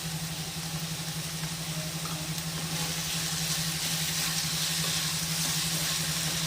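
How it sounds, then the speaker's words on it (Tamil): Onions and tomatoes sauté in a pan with salt and turmeric, giving a steady, soft sizzle under a constant low hum with no voices. "இது எல்லாமே சேர்த்து வதக்கணும் நல்லா தக்காளியும் வெங்காயமும் நல்லா வதங்கிடுச்சு"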